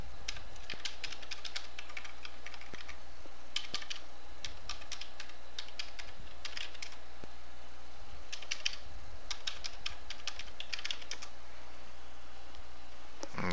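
Fingers type on a computer keyboard in quick irregular bursts of light clicking, close up over a steady low hum, with no voice.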